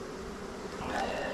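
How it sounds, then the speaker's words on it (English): Honey bees buzz steadily around an open hive during an inspection at an apiary, a close, droning hum that grows slightly louder toward the end. "Hopefully people moved because there were a bunch of bees."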